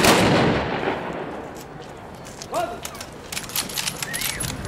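Cannons fire a salute salvo at a historical reenactment of Poland's wedding to the sea, one heavy boom opening and decaying, followed by shouted voices and scattered sharp reports.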